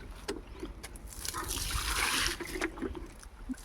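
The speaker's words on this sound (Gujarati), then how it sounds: "અહીંયા બાકી હતું તો આપણે આને ડબલું પાણી પાઈ દઈએ" Water pours from a tin container onto plants in a farm field, a continuous splashing gush that swells in the middle and then eases, close to the listener and with no talk.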